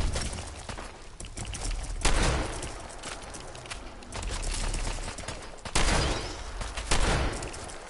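A shotgun fires in Fallout 4, letting off a few loud, separate blasts spaced a second or more apart over a steady background of game sound.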